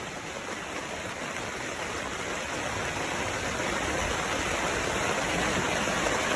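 A river flows with a constant, close rush of moving water that holds an even level from start to finish.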